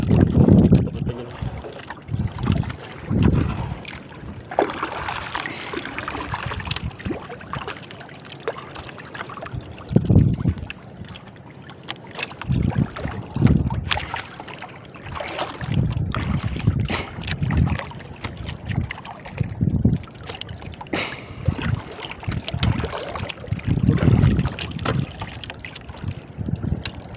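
A small wooden boat is paddled against a strong river current off an island in Oriental Mindoro, with irregular splashing strokes under steady wind buffeting and flowing water throughout.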